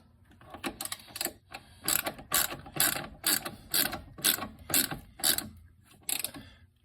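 A ratchet tightens shock absorber bolts on a C6 Corvette, giving about a dozen quick, crisp clicking bursts in an uneven rhythm, close and clear with short pauses between them.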